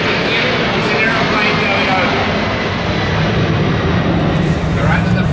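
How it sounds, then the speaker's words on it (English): An aeroplane passes overhead along a flight path near a carpet tile warehouse, a steady broad roar that stays loud and constant throughout, with someone talking over it. "That noise you can hear is an aeroplane going over."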